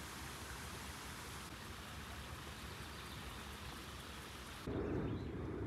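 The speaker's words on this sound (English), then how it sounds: "I wanted rain and it's raining today" Steady rain pours down in a constant hiss, with a low rumble beneath and a brief louder swell near the end.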